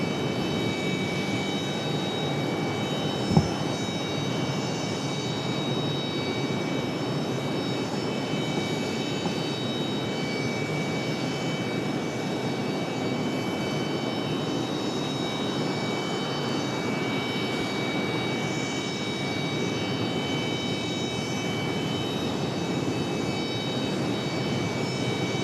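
A Delta airliner takes off at Raleigh-Durham airport, a steady broad jet roar holding at moderate distance throughout, with one brief click early on and no voices.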